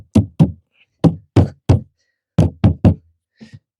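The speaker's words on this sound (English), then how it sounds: "I'm just going to knock on the sides here to get it all out." Knocks on the sides of a composting toilet container, struck in quick pairs and threes: two, then three, then three more close hollow thuds, with a couple of softer taps at the end.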